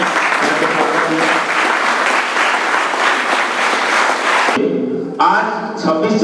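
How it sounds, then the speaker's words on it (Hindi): Loud, sustained applause from a crowd at a school science exhibition, a thick wash of clapping that cuts off abruptly, followed by a brief tonal sound. "तालियां"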